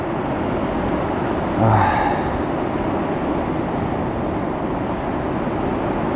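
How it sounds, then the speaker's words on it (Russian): Black Sea waves wash onto the shore at Anapa on a windy December day, making a steady broad roar. A brief gust thumps the microphone early on, and there is no speech. "Вот море разогнало под волной. Вот теперь есть волнение."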